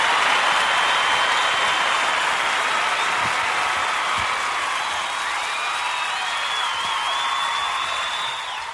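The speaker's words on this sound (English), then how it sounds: "Thank you for that wonderful, wonderful, wonderful round of applause" Sustained applause from a live show audience greeting the host, a dense wash of clapping with some cheering that holds steady and then begins to taper near the end.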